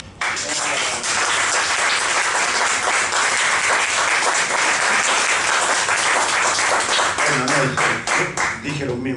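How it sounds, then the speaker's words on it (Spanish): Audience applause after a talk and debate, a loud sustained burst of dense clapping filling the whole stretch, with some voices faintly mixed in before it starts to thin near the end. "Un gran aplauso, entonces."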